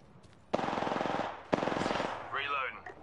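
Machine gun fire in a video game, two rapid bursts of closely spaced shots, each about a second long, followed by a softer mechanical clatter.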